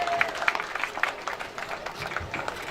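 Applause for a professor of economics receiving a best researcher award at a university function, moderate clapping from a crowd that stays fairly steady and sounds somewhat distant.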